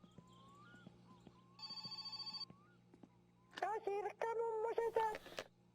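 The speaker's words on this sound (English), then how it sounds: "Got a phone call." A phone rings in the driving game My Summer Car, with one short electronic ring burst and then a longer warbling ring. Faint game ambience and clicks sit underneath.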